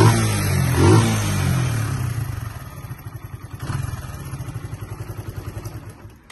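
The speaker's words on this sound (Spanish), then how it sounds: "Sonido tipo custom, motor Suzuki." Shimoto Dragon II 125cc custom motorcycle with a Suzuki engine, about 11-12 years old, revving loudly up close at first, then settling into a steady pulsing idle.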